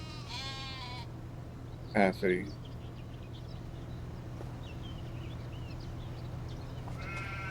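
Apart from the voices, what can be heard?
sheep bleating in the video game Farming Simulator 25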